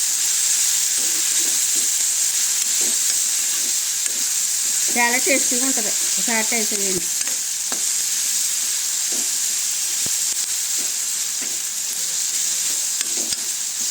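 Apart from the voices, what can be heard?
prawn peel and onion pieces frying and being stirred in a pan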